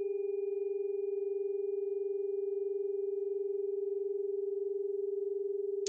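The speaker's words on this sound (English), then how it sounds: "you can kind of hear the tuning forks actually playing off of each other in that with a kind of a warble" A pair of Solfeggio tuning forks, sacral and root, struck together ring out as one steady, sustained pure tone with a faint warble, alone and unbroken until a brief click at the end.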